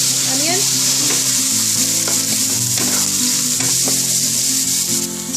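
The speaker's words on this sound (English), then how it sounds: "So saute onion for around like 2 to 3 minutes." Onion sautéing in a pan with garlic for Punjabi maa chole ki daal, a loud, steady sizzle and crackle throughout with occasional stirring scrapes, close up and without speech.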